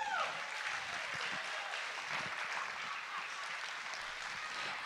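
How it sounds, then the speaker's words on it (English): A church congregation clapping their hands during a Sunday morning service, heard as a faint, continuous wash of clapping with a voice rising briefly at the start. "Come on, somebody clap your hands."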